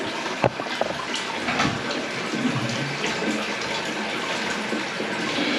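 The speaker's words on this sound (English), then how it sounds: "Just keep my finger on the valve, just so the water constantly runs through." Water runs steadily through a mixer shower valve in a bathroom being remodelled, a continuous broad hiss of flow with a faint knock near the start, close and alone.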